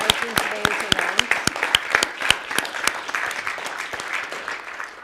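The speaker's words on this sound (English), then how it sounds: "A special shout out to Kayla McConnon, who we should all applaud for organizing today's event." An audience applauding at a conference keynote event, a close, rapid burst of claps that thins and fades into softer scattered clapping.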